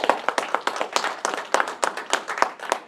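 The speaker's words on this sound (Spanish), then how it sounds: "Denle un aplauso al Señor." A church congregation applauds during a sermon, many hands clapping in a brisk, uneven patter that stays fairly loud and close throughout.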